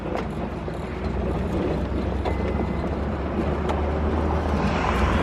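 A 1966 Cadillac Eldorado convertible rolls along with its top down on bumpy roads into Balboa Park, San Diego, giving a steady low road and engine rumble mixed with wind noise throughout.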